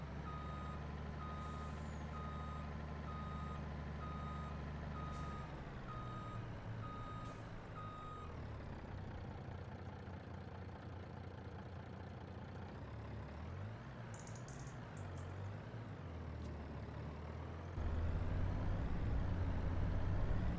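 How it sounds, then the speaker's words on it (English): A larger truck in the video game Farming Simulator 25 runs steadily with a low engine drone while a reversing alarm beeps in an even rhythm for the first several seconds, and the engine note rises louder near the end. "Definitely nicer having the bigger truck."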